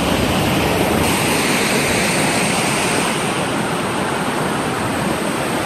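Thalakona waterfall roaring continuously as it falls from the hills, a thick, even wash of rushing water heard on its own without any voices.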